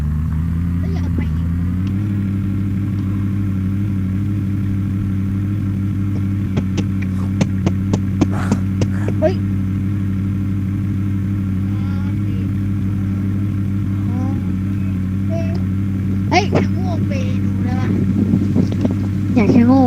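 A car engine drives in the video game Unturned, giving a loud, steady, low droning hum that rises slightly early on. Voices talk intermittently over it.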